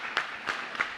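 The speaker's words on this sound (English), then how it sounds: "I know not many people are clapping" Sparse audience applause in a large hall at Tesla AI Day: three brief, scattered bursts of clapping, fairly distant and thin, each fading quickly, with no voices over them.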